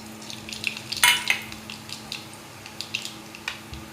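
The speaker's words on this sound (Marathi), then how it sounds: "आणि आता जिरं मोहरीची फोडणी देते" Cumin and mustard seeds sizzle and crackle in hot tempering oil in a home kitchen, a soft frying hiss broken by small scattered pops and one sharper burst, close and fairly quiet.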